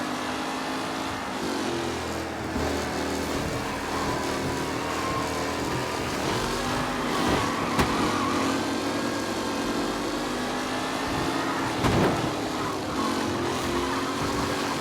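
Vintage race cars in Mafia: Definitive Edition drive hard around a track, with several engines droning and revving steadily and loudly, rising and falling in pitch as the cars jostle for position.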